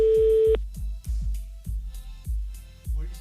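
Telephone line tone while an emergency call is being connected to the French police or gendarmerie, a steady beep followed by a series of regular low thumping pulses and clicks.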